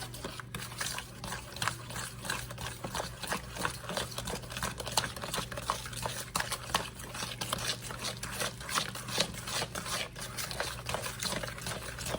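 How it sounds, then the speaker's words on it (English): Banana bread batter being mixed in a bowl, a fast, continuous rhythmic whirring and scraping with a steady low hum underneath, moderately loud and close throughout. "I'm just going to mix it together."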